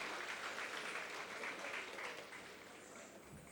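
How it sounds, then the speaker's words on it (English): Applause for a yoga team at a foundation day cultural celebration, a steady dense clapping that holds for about two seconds and then thins and softens slightly toward the end. "Can we have a huge round of applause for the yoga team"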